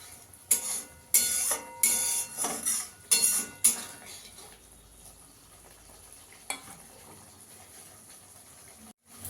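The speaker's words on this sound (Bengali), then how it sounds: "আমার সর্ষে বাটাটা ভালো করে কষানো হয়ে গেছে" Spatula scraping and clinking in a pan as mustard paste is stirred and fried for a chapila fish curry, several sharp bursts early on, then a low sizzle with one more scrape.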